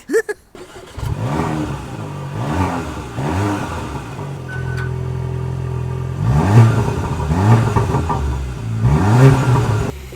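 A Porsche Macan engine cranks and starts, then revs in several rising bursts, its exhaust valves opening up, loud and close throughout with a steady idle between the revs.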